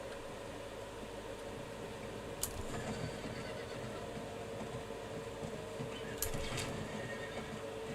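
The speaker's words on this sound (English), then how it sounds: "Get on a horse." Horse whinnies and hoof sounds from the Diablo IV video game, two brief neighs rising over a constant rumbling game soundscape.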